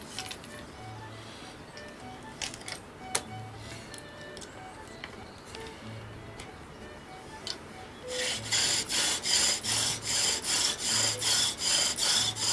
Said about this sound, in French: c'est pas la peine de scier comme un sanglier, on y va tout doucement, on fait chauffer tout doux pour avoir une belle sciure fine